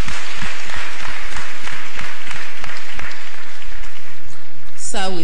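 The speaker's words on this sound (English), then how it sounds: "Another round of applause for him." Sustained audience applause at a registry summit, dense and steady clapping from a large hall crowd with sharper individual claps standing out, ending as a voice starts speaking.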